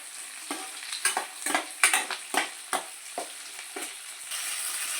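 Chilli chicken sizzles in a pan while a spatula scrapes and stirs it in a string of sharp, rhythmic strokes over a soft constant fry, close and clear with no talking.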